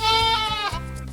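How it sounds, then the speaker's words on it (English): A goat bleats once, loud and close, with a wavering, nasal tone that dips briefly and then trails off. "Goat."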